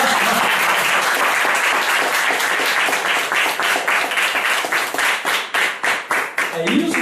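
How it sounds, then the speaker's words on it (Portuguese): A church congregation applauding for Jesus, dense sustained clapping from a large crowd that fills the space, thinning toward the end as a voice begins. "Você pode dar uma salva de palmas para o Senhor Jesus?"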